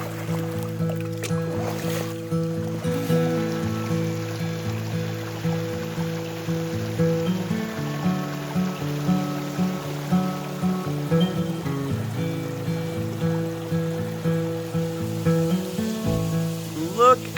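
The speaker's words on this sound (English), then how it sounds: "All of the moisture we've had that's trapped in the ground is just pouring out of that wall." Groundwater pouring and trickling out of a rock wall near a waterfall in the Dry Creek Wilderness, Arkansas, a steady continuous splash close by, with tonal hum running underneath.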